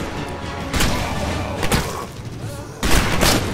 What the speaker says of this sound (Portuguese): O zumbi se mata com um tiro na cabeça.